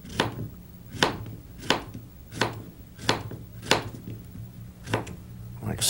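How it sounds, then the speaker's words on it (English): Knife chopping zucchini with a rolling cut on a board, about nine crisp, evenly spaced chops at a steady, unhurried rhythm over a faint background hum. "Let's show you now how to cut up our zucchinis in a special rolling cut."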